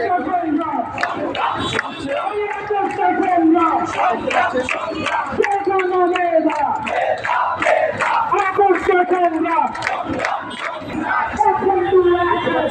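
A large crowd at a Bangladeshi quota reform protest chants slogans as it marches toward Shahbag, a loud, continuous, rhythmic mass of voices shouting in unison.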